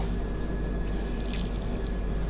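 Water runs steadily from an old foot-pedal wash basin tap aboard a moving express train, a continuous hissing flow over the low rumble of the carriage.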